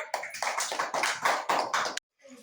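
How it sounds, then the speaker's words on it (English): Children in an abacus class clap together for about two seconds, a fairly loud burst of quick, uneven hand claps that stops abruptly, leaving a faint quiet tail. "എല്ലാവരും clap ചെയ്തേ."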